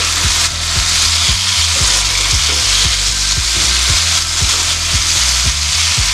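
Prawns frying with masala in a pan for prawn masala curry, a loud, dense, continuous sizzle close up with a regular low thumping pulse running underneath and no talking.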